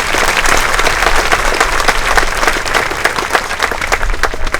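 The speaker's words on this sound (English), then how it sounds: "Let's give them a round of applause." Audience applause at the 128th KHS high school commencement ceremony in 2019, a loud, dense wash of many hands clapping that holds steady for the whole stretch with no voices over it.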